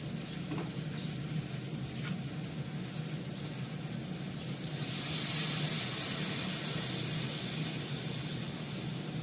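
Fenugreek greens sizzle loudly in hot oil, and about halfway through water is poured in, raising a stronger hissing spray of steam that continues to the end; close, no talk.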